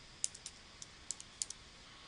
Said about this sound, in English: we're going to type in the name of the domain